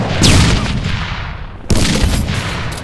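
Two loud, close grenade blasts in the Android mobile shooter Modern Strike Online, each a sudden booming burst that decays over about a second, spaced roughly a second and a half apart.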